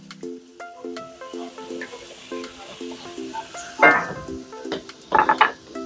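Garlic dropped into beef fat rendered in a pan crackles softly while a utensil stirs and scrapes, with a couple of sharper sizzling bursts near the end; no one speaks.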